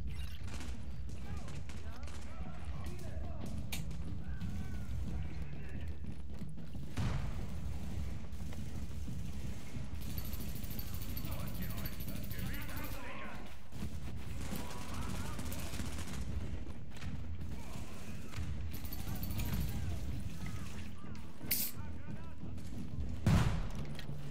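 Sustained gunfire and bursts of automatic weapons fire in The Division on PC during a legendary mission, dense and continuous throughout with a voice talking over it.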